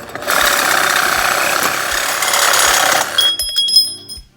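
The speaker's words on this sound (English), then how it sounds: "this little Makita really worked hard to get this nut off" A cordless Makita impact wrench hammers hard at a stubborn nut on a 1986 Nissan 300ZX, a loud, continuous rattling burst for about three seconds before stopping, followed by faint clinks.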